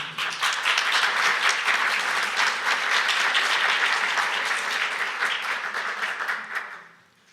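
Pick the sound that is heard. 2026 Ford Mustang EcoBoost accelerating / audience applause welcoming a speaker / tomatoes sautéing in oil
audience applause welcoming a speaker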